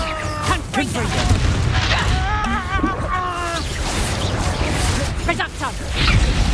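Confringo spell explosions in Hogwarts Legacy boom through a dense battle mix of whooshes and crashes, half buried under a player's steady talking.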